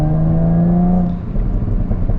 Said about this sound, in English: The V6 just sounds really smooth, frankly. It doesn't have that like lawnmower sound